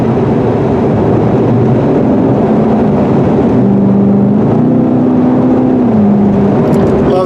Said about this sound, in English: The sound of that V8 exhaust.